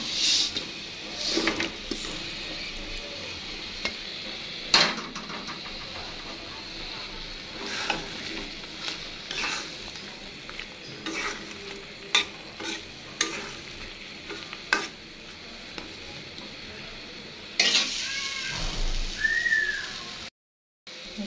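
Fried potatoes are stirred into a spiced masala sautéing in oil, with repeated spoon scrapes and clanks against the pan over a steady background sizzle, close and continuous throughout.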